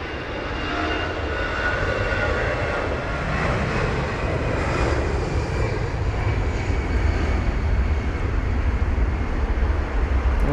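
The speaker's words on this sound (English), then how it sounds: "It's the Airbus A320-200 hosting this flight, as opposed to the usual 320 neos and sometimes even the 321 neos." An Airbus A320-200 departing London Heathrow in wet weather, a broad steady engine roar with deep rumble and rushing spray, fairly loud and sustained throughout, no talk.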